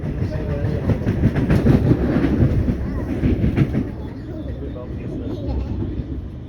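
A Siemens Nexas electric train runs between Melbourne Central and Essendon, heard from inside as a steady loud rumble of wheels and motor with rhythmic rail clatter, while a voice speaks over it.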